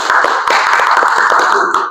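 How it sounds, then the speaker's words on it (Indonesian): Applause for a student named Hani during a classroom micro-teaching lesson: a dense, steady burst of many hands clapping at close range, sustained for about two seconds with no talking. "Tepuk tangan lagi untuk Hani"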